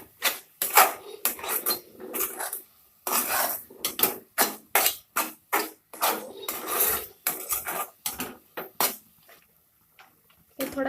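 A spoon scraping and stirring rice flour dough in a metal pan for modak, repeated rasping strokes in an uneven rhythm with short pauses, close and clear, while someone talks at times.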